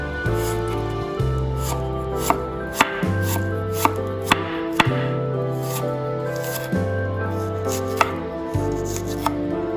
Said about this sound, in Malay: nipis-nipis bawang kalau nak guna sagat pun boleh